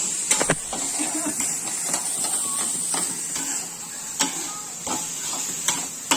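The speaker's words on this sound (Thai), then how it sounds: "ตอนนี้เป็นขั้นตอนการผัดหมู" Pork stir-frying in a pan for spaghetti: a steady hiss of frying broken by repeated sharp clicks and scrapes of a utensil against the pan.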